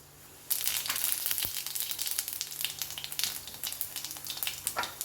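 Fennel seeds hit hot oil and start a loud, steady sizzle and crackle that carries on with small popping bursts throughout.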